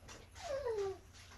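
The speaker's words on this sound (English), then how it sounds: "Little dog's getting frisky over there." A little dog lets out a single soft, high whimper that slides downward in pitch, faint against quiet room noise.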